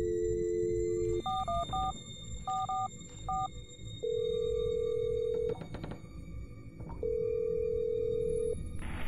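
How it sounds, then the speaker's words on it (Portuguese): In a horror video game set in a house, an old telephone produces a steady dial tone, then a series of quick dialing beeps, followed by longer held tones that cut in and out. "Se eu precisar ligar para alguém, teria que usar esse telefone."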